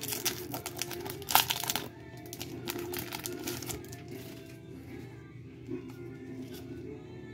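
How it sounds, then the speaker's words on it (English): Scissors snip and crinkle through foil Pokémon Obsidian Flames booster packs, a sharp cut early on followed by softer rustling and handling sounds, fairly quiet with no voices. "I'm just going to open up these, just cut these last ones up."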